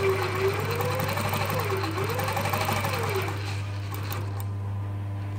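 A sewing machine runs steadily, stitching a single welt pocket on tailored shorts, with a continuous hum and whirr that holds for about four seconds before easing slightly near the end.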